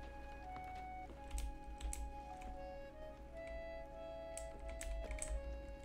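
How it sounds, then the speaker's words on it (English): Computer keyboard keys clatter in quick uneven bursts of typing during a Sea of Thieves gaming session, close and fairly quiet, with game music tones faintly underneath. "You can only hear my keyboard and me?"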